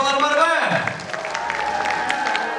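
An audience at the Zhash Zhyldyz 2024 model contest claps, a soft steady patter of many hands spreading through the hall as a voice fades out at the start.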